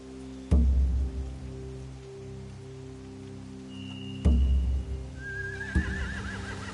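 Horses whinny loudly twice against a steady patter of rain in The Walking Dead video game on PS4, with deep thuds as each neigh begins and a faint high tone near the end.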